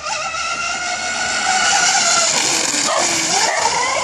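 High-pitched whine of a fast 6S RC catamaran with two motors at full throttle, loud and sustained, rising slightly in intensity midway with no talk over it.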